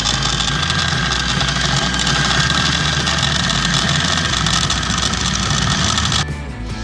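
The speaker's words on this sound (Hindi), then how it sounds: "ये मिक्सचर को मैंने अच्छी तरह ग्राइंड कर लिया है।" An electric chopper grinds shami kabab mixture. A loud, continuous motor whir runs close for several seconds with a fluctuating low churn, then drops slightly in level just before the end.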